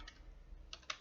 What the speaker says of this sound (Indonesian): Kita ketik perintahnya